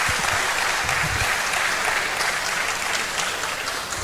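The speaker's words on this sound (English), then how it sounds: "Let's clap for her." Audience applause at a university lecture series, a dense, steady wash of many hands clapping together, loud and continuous throughout with no voices standing out.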